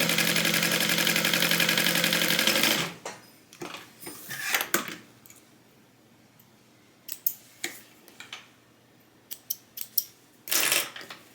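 A sewing machine runs steadily along the edge of a tote bag for a few seconds, then stops, leaving scattered clicks and handling noises.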